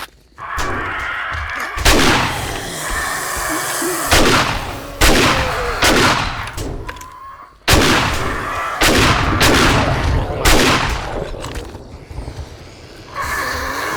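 AP rounds fired in the video game 7 Days to Die during a red-sky night horde: heavy, booming shots spaced a second or two apart, each with a long rumbling tail, loud and close, over a steady background din.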